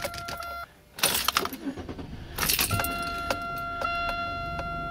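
Keys jangle, then a 2001 Buick Century powers on with a whir and a series of repeating electronic warning chimes and beeps, steady and close.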